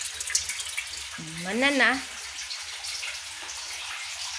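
Something is washed under a running tap, giving a steady soft hiss of flowing water throughout, with a brief spoken question near the start.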